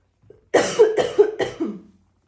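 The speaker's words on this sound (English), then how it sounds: "Sorry about the coughing." A single person coughs several times in a quick burst, close and fairly loud, after a brief throat sound.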